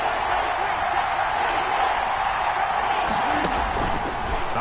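A stadium crowd in an American football video game roars as a continuous wash of cheering noise, steady and moderately loud throughout, with a game commentator's voice faintly present.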